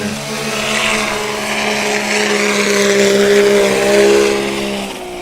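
A STOL competition aircraft engine at Hartford, Wisconsin drones loudly and steadily at high revs, pressing against its rev limiter for several seconds with a slight waver in pitch, heard up close and without voices.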